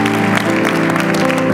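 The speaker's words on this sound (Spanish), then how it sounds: "Un aplauso fuerte al Señor Jesucristo." A church congregation claps loudly and steadily throughout a Spanish-language service, a dense continuous wash of applause with a sustained musical tone and some voices underneath.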